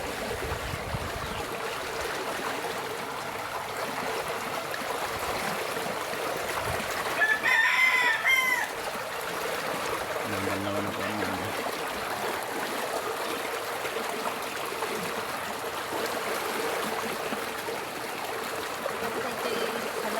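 A rooster crows once amid a steady wash of outdoor ambience at a coop of Hubbard chickens, with hens and trickling water faint in the background.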